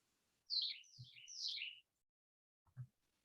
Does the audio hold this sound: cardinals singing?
yes